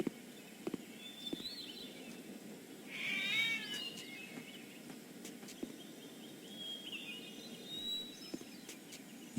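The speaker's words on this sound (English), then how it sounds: "A black cat. How appropriate." Black cat meowing in the Gabriel Knight 3 video game, a single drawn-out wavering meow in the middle, with faint higher chirps before and after over a quiet, low background.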